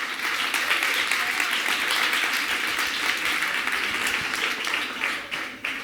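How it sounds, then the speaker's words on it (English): Sustained applause from an audience at a kids competition on an outdoor playground stage, steady broadband clapping throughout with no break, fairly loud and dense from a crowd. "Big applause for you guys."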